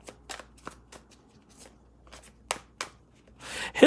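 Tarot cards are shuffled by hand in a series of short, soft riffling bursts, close and fairly quiet, ending in a longer brushing swipe.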